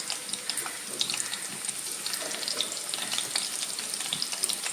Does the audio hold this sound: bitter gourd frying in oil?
yes